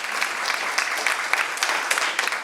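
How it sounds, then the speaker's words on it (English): Steady applause from a seated audience at a multiple sclerosis treatment education program, dense clapping at even loudness throughout with no talking. "we want to give them all a round of applause"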